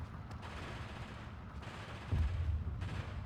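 Submachine gun fire from a PPSh in the World War II strategy game Steel Division 2, heard as a dense, steady rattle of distant battle noise that swells into a louder, heavier burst near the end.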